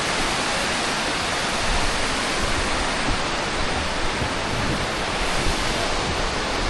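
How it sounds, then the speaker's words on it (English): River water in Krka National Park, Croatia, rushing downstream in a dense, steady broadband roar like a nearby cascade, loud and unbroken throughout. "you can see the water going downstream from here"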